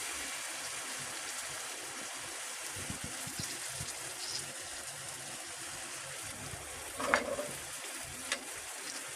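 Malpua batter frying in hot oil, a steady soft sizzle and crackle running throughout, with a brief louder splash-like burst near the end and a small clatter after it.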